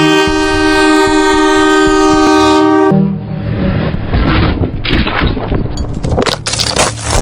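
A train horn blares loudly and steadily on a rail stretch in Hyderabad, India, then cuts off as the train rushes past with a heavy, roaring clatter of wheels and rushing air, very close.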